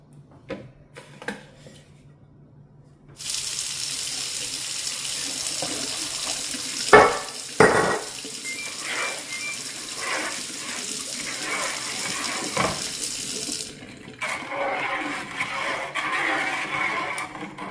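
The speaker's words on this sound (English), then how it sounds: "We use hot water from the tap, as hot as we can get it" Hot water runs steadily from a kitchen tap into a bucket for making strawberry wine, a broad rushing flow that starts after a quiet opening and continues close and loud with a few knocks and shifts.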